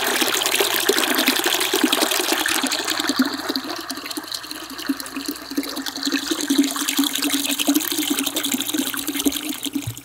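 Water from a garden hose pours steadily into a bucket outdoors at a homestead RV site, a continuous splashing rush that stays loud and even throughout with no talking.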